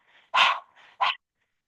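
A person doing breath of fire in a Kundalini yoga class, panting like a dog with tongue out: a few sharp, breathy bursts in uneven rhythm, close and loud, imitating a dog's pant.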